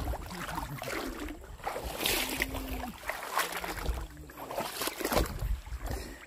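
Footsteps wade through shallow water outdoors, with irregular splashes and sloshing over a constant watery background, fairly close and moderately loud.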